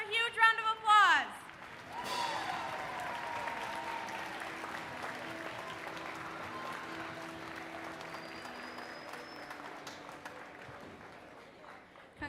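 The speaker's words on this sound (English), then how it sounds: "Let's give all of our winners another huge round of applause." Sustained audience applause for award winners at a school event, a steady wash of clapping that follows a voice at the start and gradually thins out, with a faint tone partway through.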